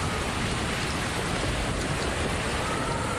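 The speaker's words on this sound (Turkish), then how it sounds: "Gök gürültülü sağanak yağış Balıkesir'de de etkili oldu." Heavy rain with thunder pours down steadily in a dense, continuous hiss with no pauses, loud and close throughout, during a storm in Balıkesir, Turkey.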